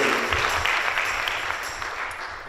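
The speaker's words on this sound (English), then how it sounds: "Let's give these guys a great round of applause." A crowd applauding at a live worship concert in a church, dense and even clapping that is fairly loud at first and eases off slightly toward the end.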